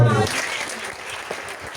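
A congregation claps in a brief, dense burst that starts right after a voice and continues steadily at moderate loudness, with speech partly audible underneath.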